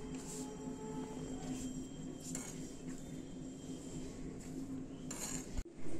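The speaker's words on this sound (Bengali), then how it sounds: "এবার আমি আটাটাকে একটু ম্যাশ করে নেব, এখানে রেখে ম্যাশ করে নিচ্ছি।" Dough for Bengali goja sweet being mashed on a work surface, giving steady soft pressing and scraping with faint clinks of utensils, continuous and close, with a brief knock near the end.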